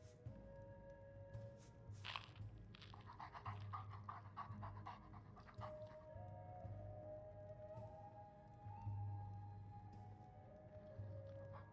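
A dog panting in Skyrim, steady quick breaths close up for the whole stretch, with faint ambient game sounds around it and no talking.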